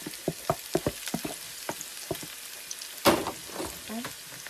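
Garlic and onion frying in a pan give a close sizzle broken by repeated stirring scrapes and clatters, with a louder burst of sizzling partway through, and no voices.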